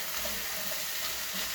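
Aromatics and onions sauté in a pan as a lamb shank braise gets underway, giving a steady, soft frying sizzle with faint stirring, fairly close and without talk.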